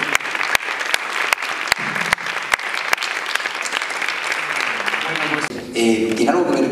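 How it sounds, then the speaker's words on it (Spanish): Warm applause from an audience for the actors at a presentation of the series Entre Tierras, steady claps with a few sharper ones, fading as a voice starts speaking near the end. "Un aplauso por favor a estos superactores."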